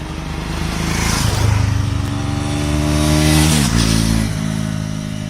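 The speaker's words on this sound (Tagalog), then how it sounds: "flyby ng Dominar 400 na naka-stock exhaust" A Kawasaki Bajaj Dominar 400 motorcycle on its stock exhaust passes by, its engine note swelling loud as it nears, peaking twice with a steady rev and then fading, with no voices.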